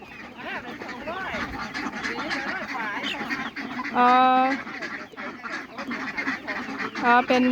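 Farm ducks quack repeatedly, with loud, close bursts around the middle and end, mixed with other poultry calls and some talking in the background.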